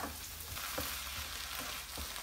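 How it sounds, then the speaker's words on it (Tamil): Jaggery and lentil filling stirred in a pan over medium heat, with a steady close sizzle and soft scraping strokes of the spoon at a slow rhythm. "நம்ம லேசாக கிண்டணும்."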